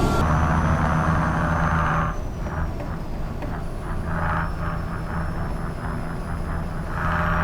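A truck in Euro Truck Simulator 2 fitted with a Kurt exhaust drones with a deep, loud rumble that holds steady, with a brief rise in revs partway through and no talk.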